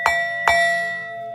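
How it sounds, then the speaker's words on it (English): A bell is struck three times, each strike a bright, ringing ding that decays slowly, with the last strike coming after a longer pause; close and clear, with no talk. "Let me ring the bell for y'all."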